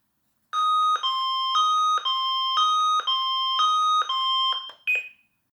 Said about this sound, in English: When you press the emergency call button, you'll hear a confirmation siren